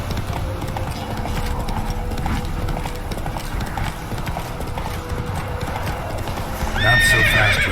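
Horse hooves clip-clop steadily at close range in The Witcher 3 video game, over a low rumbling background, before a horse's neigh breaks out loudly near the end.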